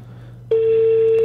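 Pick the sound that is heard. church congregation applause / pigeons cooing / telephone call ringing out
telephone call ringing out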